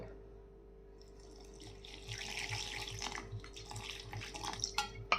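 Water is poured over ice cubes and coffee while making cold coffee. After a quiet start, a splashing, trickling stream builds and runs steadily to the end, nearby and alone.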